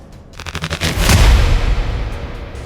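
A sea mine explosion used as a news sound effect, a rapid series of sharp booms that builds into one loud blast, followed by a long rumbling decay.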